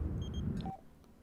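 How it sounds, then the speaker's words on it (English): Telephone dialing in The Sims 4: two short beep pairs, then a brief higher tone, heard over a steady low game rumble before everything drops to near quiet. "Jared, why are you ringing Miles?"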